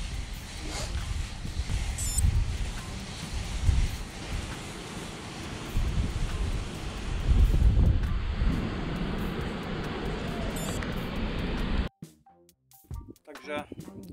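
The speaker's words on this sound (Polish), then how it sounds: "i mamy Morze Bałtyckie" Baltic Sea shore at Trząszcz: wind buffets the microphone over rolling surf for about twelve seconds, loud and gusty, before cutting to a quieter stretch.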